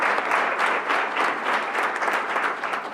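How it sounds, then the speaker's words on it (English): An audience at a school board business meeting in Rochester applauds, a dense, sustained wash of many hands clapping at moderate loudness with no speech over it. "Let's give Mom a round of applause."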